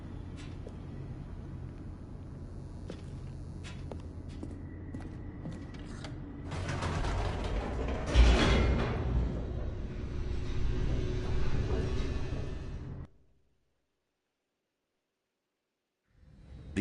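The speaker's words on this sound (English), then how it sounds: "The elevator raced downward" An elevator descends in the video game The Stanley Parable, a low mechanical rumble with creaks that swells into a loud grinding roar, then cuts abruptly to silence.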